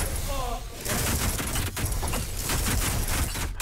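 Rapid shotgun fire from a firing squad of ordinary shotguns in the Ultrakill video game, a dense, loud, continuous barrage of overlapping blasts lasting several seconds with no pauses.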